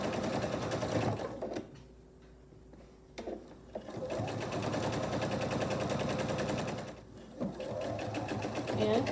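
A sewing machine stitches fabric strips for a holiday placemat, its rapid needle chatter running loud and steady near the mic with a short pause in the middle, as a voice talks over it.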